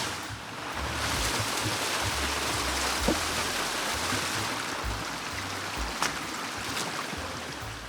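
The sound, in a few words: small waterfall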